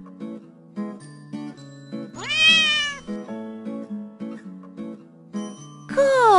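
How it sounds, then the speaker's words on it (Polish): A cartoon cat meows twice, a rising-and-falling call and then a shorter one near the end, close and clear over a bouncy children's farm song with light jingling bell notes. "Kot!"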